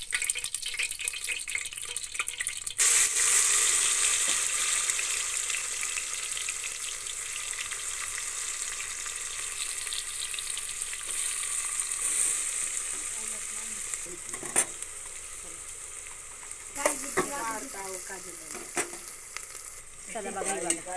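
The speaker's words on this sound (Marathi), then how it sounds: "बघा कांदा लाल करते बघा" Onions frying in oil inside a pressure cooker for village-style chicken biryani: a loud, continuous close sizzle with occasional stirring clatter and faint scraping, nearly free of talk.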